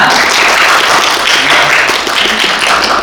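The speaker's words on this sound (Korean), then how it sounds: "박수로 시작하겠습니다" A round of applause opens a policy research forum in Eunpyeong district, with dense, continuous clapping from a group that sounds close and fills the whole moment.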